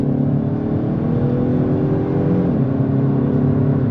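A 2023 Kia Forte GT with a dual-clutch transmission accelerates on the road, its engine droning steadily from inside the cabin with the pitch rising, then briefly dipping mid-run before climbing again.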